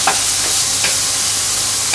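Chopped tomato pieces going into hot oil with fried onion and green chilli in a pan, giving a steady broadband sizzle with a few brief stirring scrapes, close and fairly loud, no voices.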